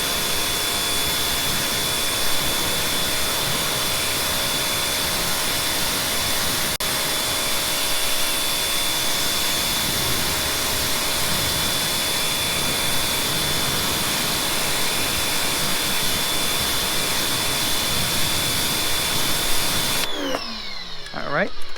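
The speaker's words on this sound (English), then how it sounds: "Let's get the power washer," Power washer spraying a steady high-pressure hiss while rinsing a wheel on an Alfa Romeo 4C, loud and continuous for about twenty seconds before cutting out near the end.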